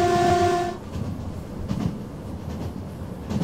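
A train horn in a train simulator video game, on a Class 323 train, sounds steadily for under a second, then cuts off, leaving the low rumble and rattle of a moving train.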